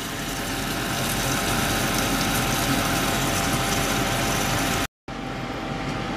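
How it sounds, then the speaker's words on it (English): A kitchen extractor fan runs loud and steady, a dense continuous whir and rush filling the space, cutting out briefly near the end before resuming. "Hopefully you can hear, because I've just put the other extractor fan on those."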